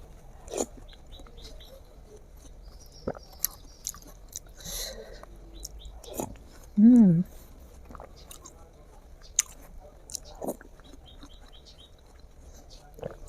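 Close, wet chewing and biting on a large watermelon eaten with milk cream, with soft squishy bites and smacks scattered through and a brief tonal squeak midway.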